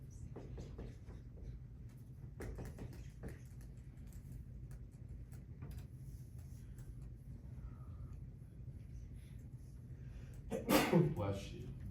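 A single sharp sneeze bursts out near the end, rising briefly above a quiet classroom hum with faint murmuring.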